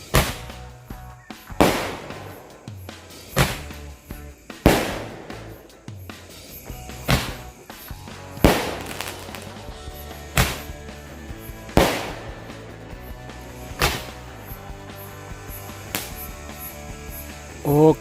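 A long run of big firecrackers bursts one after another in a steady sequence, each blast sharp and loud against a continuous crackling and fizzing background.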